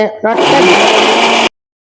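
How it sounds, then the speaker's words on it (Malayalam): A mixer grinder crushing coconut whirs loudly at close range for about a second after a brief voice, then cuts off abruptly into silence. "ചെറിയ മിക്സിയുടെ ജാലിട്ടിട്ട് നമുക്കൊന്ന് ക്രഷ് ചെയ്തെടുക്കാം"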